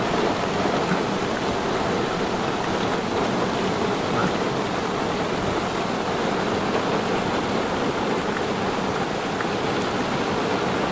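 Heavy rain pours steadily at an outdoor wind farm site, a dense continuous hiss of big drops with no thunder and no pauses, loud and unbroken throughout.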